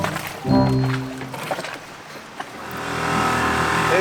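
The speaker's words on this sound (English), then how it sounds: "This is the longest it's ran it idle like that without pumping out." A sunken outboard boat motor recovered in the Florida Keys idles roughly, a loud close engine drone that starts abruptly, dips, then builds back to a steady running rumble.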